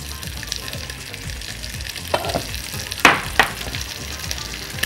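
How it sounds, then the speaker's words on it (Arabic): Beef ribs fry in butter and tomato sauce with a steady, close sizzle, broken by a few sharper spits and crackles as the meat is stirred or turned. "هحمرها في زبده وفي صلصه."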